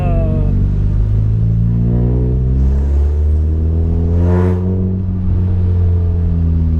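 A Peugeot 106 S16 petrol engine, being repaired for an idle fault with its stepper motor, revs up as the accelerator is pressed, a loud, close, deep rumble that swells and then settles.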